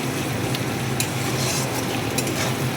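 A wok of chopped onion fries with a steady close sizzle, and a few scraping stirs of the spatula rise above it now and then.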